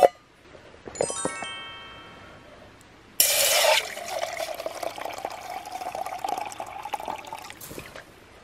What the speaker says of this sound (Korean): 여기다가 물 채워가지고 뭐 라면을 끓여 먹거나 물 데워서 술 데펴 먹는?